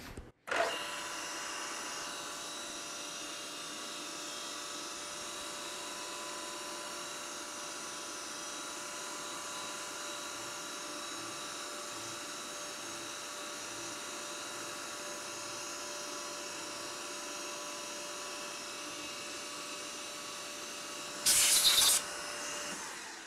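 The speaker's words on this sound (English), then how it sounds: "Now I can just side mill with the 3 mm carbide end mill my chamfer." A 3 mm carbide end mill side milling a chamfer in stainless steel, a steady high whine of the spindle and cut held evenly throughout, ending with a brief louder burst of air or coolant.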